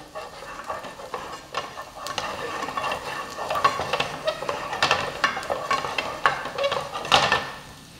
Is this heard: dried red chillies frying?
yes